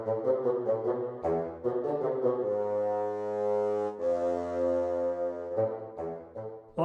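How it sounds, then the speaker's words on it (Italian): A sampled bassoon from the BBO woodwinds library plays its opening two-bar phrase, short detached notes giving way to a long sustained note that swells, then more short notes, heard alone and clearly. "Vediamo le prime due battute del fagotto"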